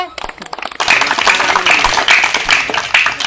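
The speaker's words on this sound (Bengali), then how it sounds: "সবাই একটা জোরদার তালিয়া।" A crowd bursts into loud, sustained clapping and applause after a brief burst of talk at a banana-eating challenge prize event.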